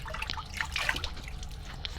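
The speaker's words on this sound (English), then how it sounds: "let me get a little water on my face." Water is splashed onto a face by hand before a cool-water shave, giving close, irregular wet splashes and drips over a low background hum.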